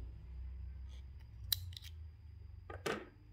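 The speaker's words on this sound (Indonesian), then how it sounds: "ditarik sedikit aja yang molor itu agak berkerut di sini kemudian digunting" Scissors snip embroidery thread on a houndstooth stitch piece, two crisp close cuts in a quiet room, a light one first and a louder rasping snip near the end over a low hum.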